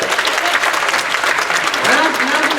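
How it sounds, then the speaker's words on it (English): An audience bursts into loud, sustained applause for a trainee head of health and safety, dense clapping close by that continues evenly for the whole short stretch. "Give him a round of applause."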